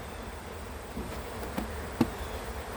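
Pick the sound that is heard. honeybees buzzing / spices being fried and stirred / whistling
honeybees buzzing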